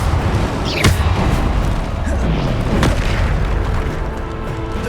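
Bombarda spell explosions in the Hogwarts Legacy video game, with loud booming blasts rolling over continuous battle noise, one heavy burst standing out near the start and another a couple of seconds later.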